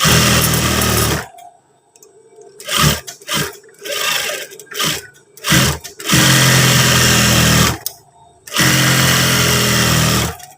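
Sewing machine stitching stiff trouser fabric in repeated bursts, long loud whirring runs broken by short pauses and brief stop-start stitches, close and alone.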